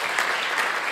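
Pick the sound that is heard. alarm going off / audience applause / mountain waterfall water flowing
audience applause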